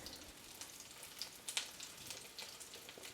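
Dried chilli and onion frying in leftover paneer oil, a soft continuous sizzle with faint crackles, low and steady with no voices.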